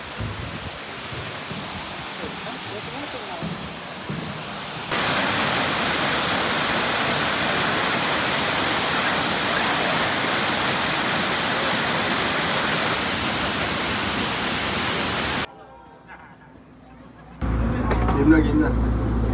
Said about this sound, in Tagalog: Dito tayo ngayon sa Shifen Waterfall.